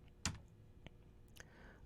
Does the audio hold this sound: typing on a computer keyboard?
yes